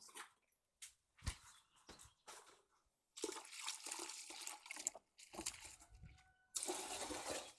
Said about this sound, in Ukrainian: Зараз я його вилию в інше відро просто.